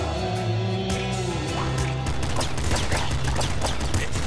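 Rapid gunfire from the top-down shooter Nuclear Throne, a dense, continuous stream of overlapping game shots with crackling impacts, loud and steady throughout with no talking.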